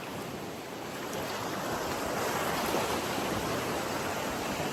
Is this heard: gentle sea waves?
yes